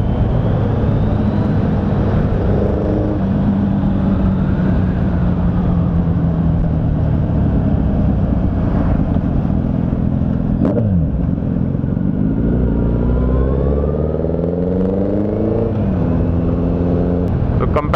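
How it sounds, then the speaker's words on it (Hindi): A Kawasaki Ninja 1000 motorcycle being ridden, its engine droning steadily and loudly with rising and falling revs as it shifts through gears, wind noise over it throughout. "बहुत टाइम के बाद ये चला रहा हूँ मैं, निंजा 1000।"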